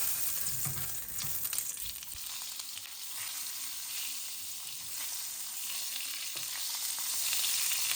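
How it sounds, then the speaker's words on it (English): A whole paneer block sears on high heat in a hot pan, giving a steady, close hiss of sizzling oil with faint crackles that swells slightly toward the end. "I'm going to put the whole paneer in it and cook on both sides for a couple of minutes."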